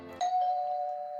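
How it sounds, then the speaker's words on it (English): A single electronic doorbell chime rings out clearly and sustains as a pure ringing tone after a brief muffled sound. "The doorbell."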